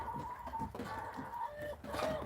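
Chickens clucking close by on a rainy early morning, a steady run of short calls with overlapping voices and outdoor background noise.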